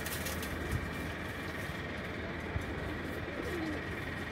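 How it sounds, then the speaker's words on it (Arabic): Pigeons in a loft coo softly and continuously against a steady background hum, with faint low murmuring calls throughout and no voices. "ادي فرد حمام ده"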